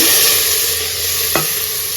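Chayote, flat beans and sambar cucumber fry in a pan for sambar, giving a loud, steady sizzle. One short scrape of stirring comes partway through.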